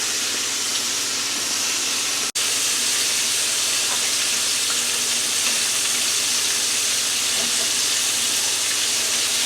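Chicken livers frying in a pan for a sweet and spicy barbecue dish, a loud steady sizzle and hiss of hot oil with a momentary cut near the start, no voices.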